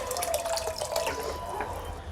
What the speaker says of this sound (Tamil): இன்னும் கொஞ்சம் தண்ணி ஊற்றிக்கிறேன்